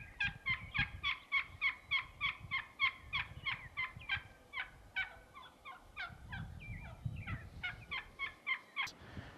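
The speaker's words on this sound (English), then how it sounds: "Turkey wound up gobbling right over the hill from us" Wild turkey in the South Dakota hunting country calls in a long, evenly spaced series of about twenty sharp notes, faint and distant over a low outdoor rumble, with no one talking.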